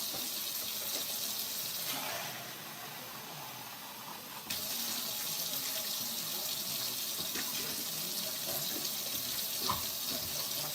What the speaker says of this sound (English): Now what I do next, I'm gonna put some more water in here.